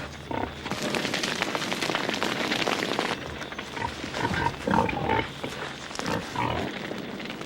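Wild pigs being flushed out by encircling fires give short grunts and squeals amid a dense crackling, rustling background, with the calls clustering in the second half.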